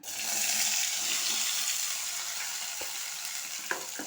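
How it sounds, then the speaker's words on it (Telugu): Long-cut ivy gourd pieces fry in oil with a loud, dense hiss that swells right away and holds steady, a couple of brief clinks near the end. "దొండకాయలు అయితే ఈ టైప్ కట్ చేసుకున్న పొడవుగా చూడండి ఇప్పుడు వీటిని నూనెలో గోలిస్తాను"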